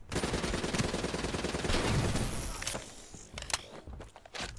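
Dense, loud gunfire in Call of Duty: Black Ops 3, rapid automatic bursts filling the first few seconds, then sparser sharp shots trailing off toward the end, no talking.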